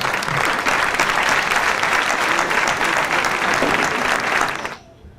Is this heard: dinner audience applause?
yes